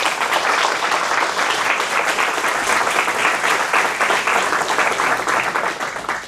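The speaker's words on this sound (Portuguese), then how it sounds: "Você pode aplaudir o Senhor essa noite?" Steady, continuous applause from a church congregation, a dense even wash of clapping throughout with no voices standing out.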